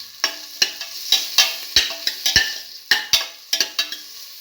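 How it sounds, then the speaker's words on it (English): A spoon scraping and stirring chili powder and salt through potatoes and French beans frying in a pan, sharp clinks and scrapes every half second or so over a soft continuous sizzle. "Put in a spoon of chili powder, salt, and mix."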